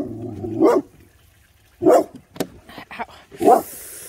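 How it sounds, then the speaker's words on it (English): A Labrador puppy recovering from a spay, wearing a cone, gives three loud, close barks spaced about a second apart, with smaller yips and snuffles in between. "Come on, no barking."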